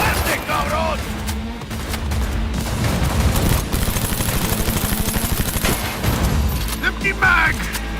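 Automatic gunfire in the video game Cyberpunk 2077, sustained rapid bursts and booming shots filling the mix with shouted voices over the top throughout.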